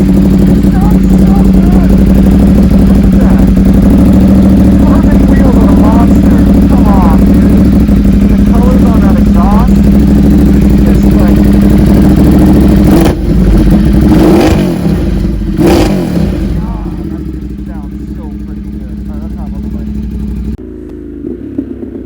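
A Ducati Monster 1200 motorcycle with carbon wheels runs loud and close, its engine rumbling and revving for a long stretch before winding down, while people talk over it.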